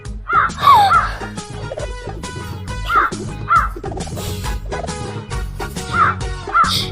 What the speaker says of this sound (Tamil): ஏ காக்கா சத்தம் போடாத அமைதியா